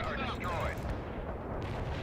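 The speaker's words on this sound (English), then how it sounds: "You can actually see it out there on the map, firing its cannons." The battleship Missouri fires its cannons in the World in Conflict video game, a dense run of booming blasts and rumbling artillery that fills the mix.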